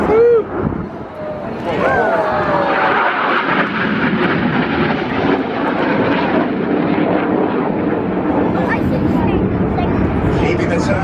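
Red Arrows jets roaring overhead during a display at the MCAS Miramar air show, a loud, continuous broadband engine rush with shifting pitch as the aircraft pass, an announcer talking over it.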